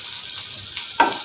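Onions fry in a kadai with a steady, close sizzle and a brief stirring scrape near the end.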